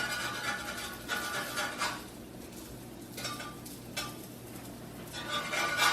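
Colombian arepas sizzling softly in a pan while being flipped, with faint scraping and clinks of a utensil against the cookware in a steady low background hiss.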